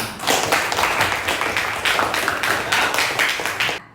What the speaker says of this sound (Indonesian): Beri tepukan yang meriah kepada teman-temannya.